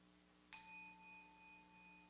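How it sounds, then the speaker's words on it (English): A single clear meditation bell strike rings out in quiet surroundings, its pure tone lingering and slowly fading. "Listen to the sound of the bell."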